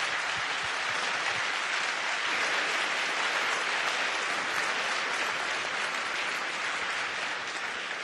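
Sustained applause from a large audience fills the hall at the opening ceremony of the 2018 New York Tech Valley Regional robotics competition, a steady dense roar of clapping lasting throughout without a break.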